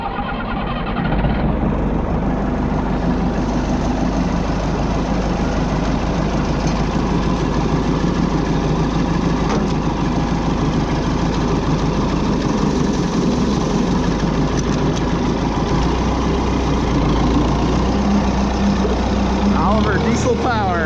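A diesel engine idles steadily and loudly for the whole stretch, a constant low rumble with a faint clatter, heard up close while a person speaks over it at times.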